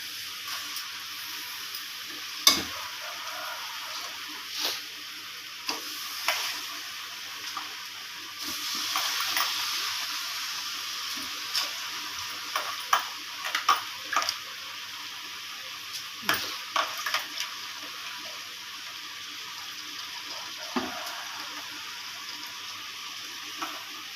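Rice gets stirred into sautéed vegetables in a pot for vegetable biryani, a long steady sizzle with scattered scraping clinks of a spoon against metal, close and moderately quiet.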